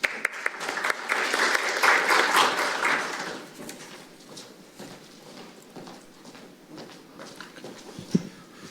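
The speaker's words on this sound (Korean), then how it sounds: "따뜻한 박수 부탁드립니다." Audience applause fills a Korean National Assembly forum hall at a maritime officer training ceremony, loud and steady for about three seconds before thinning into scattered claps and room noise.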